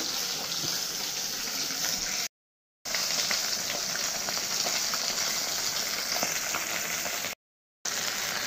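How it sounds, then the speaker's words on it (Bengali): Fish frying in a pan, a loud, dense, continuous crackling sizzle up close, broken by two short silent gaps. "আর এদিকে দেখো মাছটাও ভেজে নিচ্ছি।"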